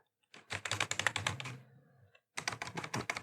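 Rapid keystrokes on a computer keyboard as code is typed into an editor, two close bursts of clicky typing separated by a brief pause, no voices.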